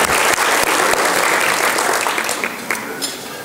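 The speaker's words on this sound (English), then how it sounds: "You started clapping before I could add the third person." Audience applause at an evening banquet, a dense steady roar of many hands clapping close and loud for the whole stretch, fading slightly toward the end.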